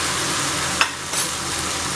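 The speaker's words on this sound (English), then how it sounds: "So the oil is all hot now. First I'll spread out my corn flour over this" Corn flour and water batter for an oyster omelette frying in hot oil: a dense, steady sizzle fills the whole stretch, with one brief utensil tap partway through and no talking.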